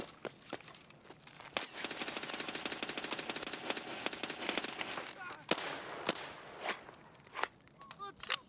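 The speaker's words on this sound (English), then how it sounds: "That was pretty bad shooting." Rapid automatic gunfire in a shooting video game, dense bursts of sharp cracks over several seconds followed by a few scattered single shots, moderately loud amid faint background game sounds.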